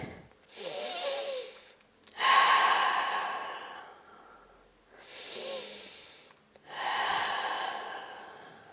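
Slow, deep breaths during a standing yoga forward fold, two full cycles of audible inhale and long exhale, close and breathy with quiet pauses between.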